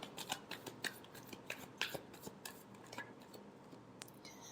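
Tarot cards are shuffled close by in a run of quick, crisp riffling snaps and rubs, with no talk over them.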